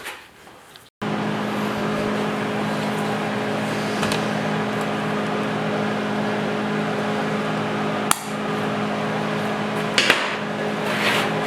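Steady MIG tack welding on a steel three-legged stand, a continuous crackling buzz holding for about ten seconds after a brief pause, with a couple of sharp metallic clicks near the end; no talking.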